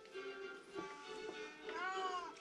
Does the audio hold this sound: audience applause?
no